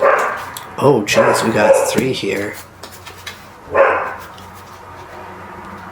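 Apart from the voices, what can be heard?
dogs barking outside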